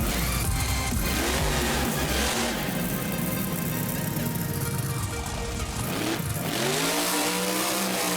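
A monster truck engine revs and roars loudly in the BeamNG video game as the truck climbs over crushed cars, with a steady dense drone and pitch swells near the start and end.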